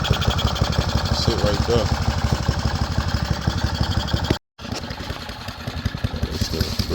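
A small mini bike engine runs close by with a steady, fast-firing putter, broken by a brief cutout before it carries on, while a person speaks briefly over it.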